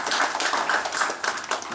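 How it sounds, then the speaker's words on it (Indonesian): An audience at an official meeting with the West Java deputy governor and a visiting council commission applauds, steady overlapping hand clapping of moderate loudness with no voices. "tepuk tangan dong semua untuk Bapak"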